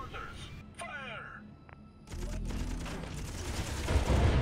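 Turret gunfire in the Miner Wars space combat game erupts as a dense, continuous barrage from about two seconds in and keeps building in loudness. Before it come quieter mechanical and electronic effects.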